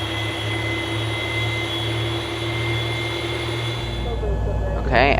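A Boeing 737 MAX jet engine in X-Plane 11 spools up with a steady whining hum, the tone shifting partway through, and a voice is heard near the end.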